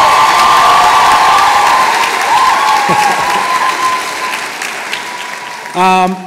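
Graduation ceremony audience applauding with sustained, dense clapping that fills the room, with some cheering mixed in and a voice briefly speaking near the end.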